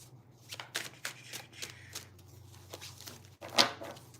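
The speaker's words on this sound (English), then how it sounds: "I want to make sure that these are shuffled." Tarot cards shuffled by hand in a quiet room, a string of soft riffling bursts and flicks, close and moderately quiet, ending in one sharper, louder riffle.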